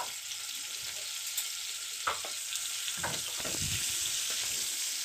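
Eggs frying in hot oil seasoned with salt and turmeric, a steady close sizzle with a few scraping stirs and clinks of a utensil partway through, no talking.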